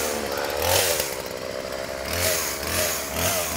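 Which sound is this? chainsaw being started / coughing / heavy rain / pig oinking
chainsaw being started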